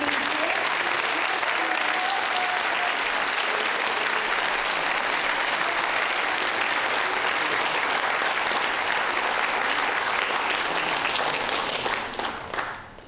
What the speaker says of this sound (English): could we just have one more round of applause for your form tutors?